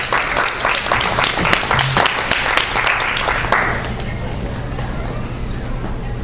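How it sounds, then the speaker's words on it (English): Applause from an open mic audience, a dense burst of clapping that peaks early, then thins and fades away after about four seconds, leaving quiet room tone. "Round of applause."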